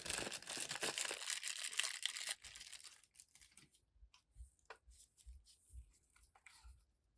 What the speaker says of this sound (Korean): 피트를 부착하고 겉면에 붙은 비닐을 떼어내 줍니다.